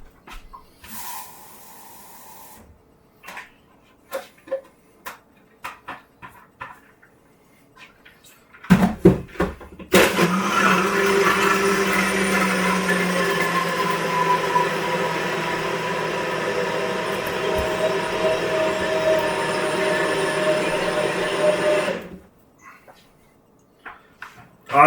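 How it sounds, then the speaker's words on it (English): Blender mixing a protein shake with water and ice, preceded by clicks and handling knocks, then a loud, steady motor whir lasting about twelve seconds before stopping, followed by a few more light taps. "just have a blender here. So we'll go ahead and do that"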